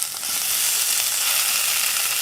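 Boiled mashed amla goes into a hot pan of oil with turmeric and chili, giving a loud, steady, crackling sizzle that follows a brief quieter moment at the start.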